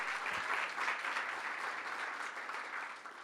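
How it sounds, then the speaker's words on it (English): Audience applause at a caucus event in the Albany mansion, steady dense clapping from a room of people that holds evenly for a few seconds and then eases slightly. "Let's give him a round of applause for doing a great job."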